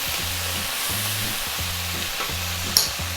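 Light soy sauce hitting hot fried cabbage in a pan gives a steady broadband sizzle with a low rhythmic stirring or scraping pattern repeating underneath and one brief sharp click near the end, with no talking.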